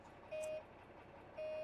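A semi-truck tractor's door-open warning chime beeps twice, about a second apart, each tone a steady electronic note lasting roughly a quarter second, over a low idling hum inside the cab.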